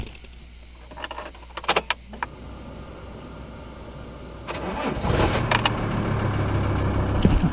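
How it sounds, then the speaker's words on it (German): A car engine starting after a repair, preceded by keys jangling and clicks, then the engine turning over quickly and settling into a steady idle, close and fairly loud, with no talking. "Das Auto springt innerhalb von 2 Sekunden an und nicht mehr 10."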